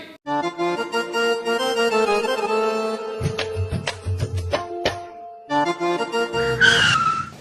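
A car arrives with its engine droning and revving loudly, a burst of tyre squeal and rattling in the middle, then the motor surges again close by.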